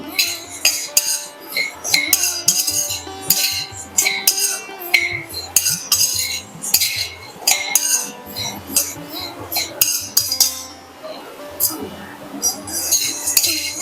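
Red poha dry-roasted in an empty pan, stirred with a metal spoon that scrapes and clinks steadily and loudly against the pan, with light rattling of the flakes.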